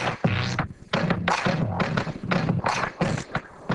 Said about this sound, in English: now you got a bass line going in here on the analog modeling bass